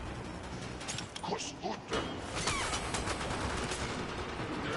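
Gunfire from enemies in a Unity first-person shooter game, rapid bursts of shots crackling through a dense, noisy game mix, fairly close and loud with no clear gaps between volleys.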